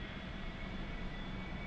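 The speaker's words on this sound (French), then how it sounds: "c'est les bruits de reprise du turboréacteur" Steady jet engine whine of an A-4E-C Skyhawk in the DCS flight simulator, a constant roaring hiss with a thin high tone, heard alone without voices.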